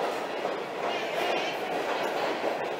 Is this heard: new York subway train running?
yes